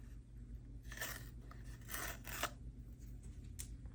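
An Apple USB-C charging cable box being opened by pulling its tear tape: a few quick, close scraping rips over a steady low hum, with no talk.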